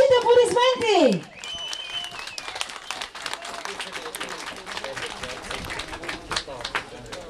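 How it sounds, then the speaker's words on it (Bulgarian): At a heavy horse pulling competition in Bulgaria, after a horse's attempt to pull nearly three tons, a crowd claps steadily and at moderate distance for several seconds, following a brief loud voice at the start. "Вашите аплодисменти!"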